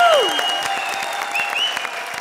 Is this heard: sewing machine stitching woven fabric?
no